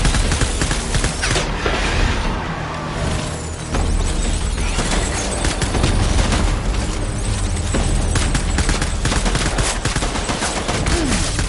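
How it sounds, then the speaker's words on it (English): Frag grenade explosions and heavy gunfire fill a loud, dense battle soundscape, with continuous booms and rapid crackling shots overlapping throughout without a break. "Frags on target."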